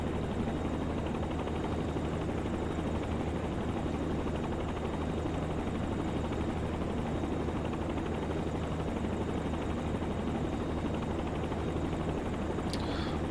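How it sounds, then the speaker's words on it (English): Steady helicopter rotor and engine drone in a flight simulator, a continuous even hum held at a constant level throughout with no voices. "we'll move the helicopter over to Annecy"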